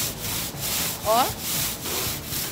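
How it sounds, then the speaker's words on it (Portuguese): A large professional sander grinds across an EIFS facade in repeated rasping strokes about every half second, loud and close, and a voice speaks briefly over it. "essa é uma lixadeira gigante, profissional"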